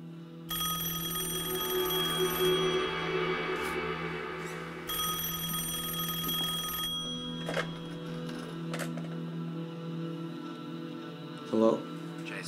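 A telephone rings in a tense short drama scene, its repeating electronic bell pattern steady and fairly loud with low background hum, then a brief knock near the end.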